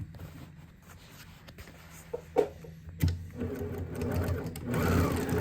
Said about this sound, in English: So I'm going to sew across that yellow line right now.